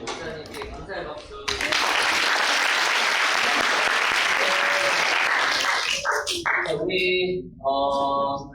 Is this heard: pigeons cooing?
no